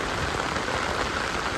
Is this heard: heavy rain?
yes